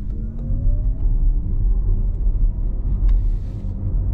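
Inside a Porsche Taycan GTS Sport Turismo electric car on the move, a steady low road rumble with a faint rising electric whine and a few small knocks.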